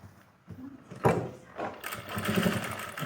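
A sewing machine starts stitching an elastic waistband onto a pleated palazzo, with short bursts of motor whirring that build into a steadier run toward the end, close and moderately loud.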